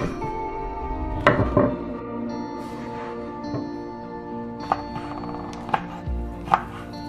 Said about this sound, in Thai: จากนั้นก็หั่นปลาหมึกนะครับ